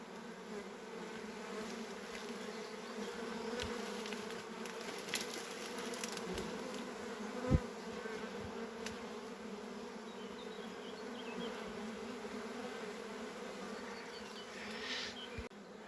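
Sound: swarm of honey bees

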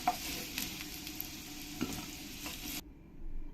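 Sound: potatoes frying in oil

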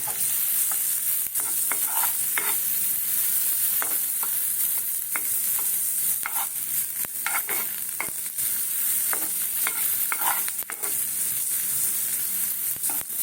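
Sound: onion frying in a pan for potato tikki

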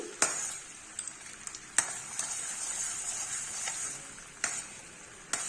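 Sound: sugar syrup boiling in pan

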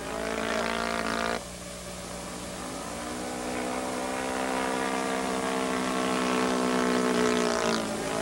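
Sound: Ultimate aerobatic aircraft performing a snap roll

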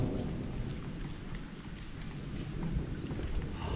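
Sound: rain falling

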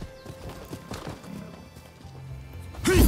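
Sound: horse galloping and neighing in video game Rise of the Ronin

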